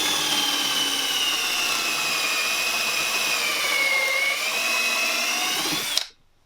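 A power drill fitted with a depth-gauge bit whines steadily into plywood, loud and close, its pitch sagging slightly under load before the motor cuts off abruptly near the end; no talking.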